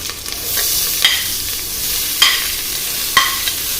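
Steady, close sizzling of onions frying in hot oil, with a few sharp pops and light taps breaking through the hiss.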